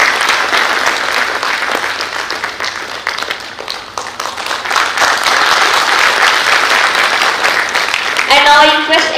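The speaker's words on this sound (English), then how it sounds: "And I request everyone for the kindly give him a huge round of applause." A steel industry conference audience breaks into a long, loud round of applause, dense clapping sustained for about nine seconds, with a few voices and a brief tonal sound near the end.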